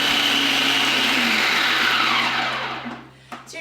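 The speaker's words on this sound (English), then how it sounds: "So you're just going to blend your cheesecake mix until it's nice and smooth." A blender whirs loudly and close while blending vegan cheesecake mix, holding a steady pitch and then winding down near the end.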